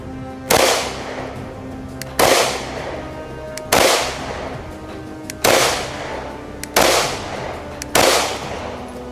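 Six loud, sharp shotgun blasts from a Derya DY9 at roughly 1.5-second intervals, each with a quick attack and a short decaying tail, fired up close with no talking in between.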